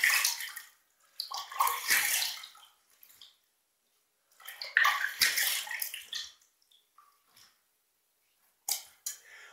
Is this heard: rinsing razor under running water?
yes